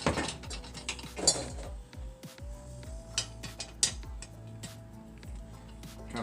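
Set screws and nuts being tightened on a chainsaw mill, giving close mechanical ratcheting clicks and metallic ticks in irregular bursts, with a faint sliding whine partway through.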